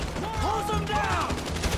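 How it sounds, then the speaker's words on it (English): Gunfire erupts in a GTA 5 heist shootout, a dense, continuous fusillade of rapid shots layered with shouting voices and a busy game soundscape, loud and unbroken throughout. "So I guess we shoot our way out of here!"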